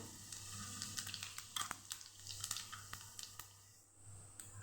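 Half a spoon of cumin seeds sizzling in hot oil for tempering a banana curry, a faint crackling fizz with many tiny pops over a low steady hum.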